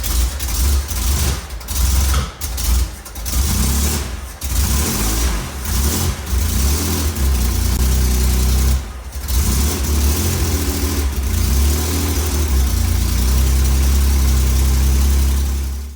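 An Alpine car engine runs steadily close by while warming up, with repeated revs rising and falling over a low, rumbling idle.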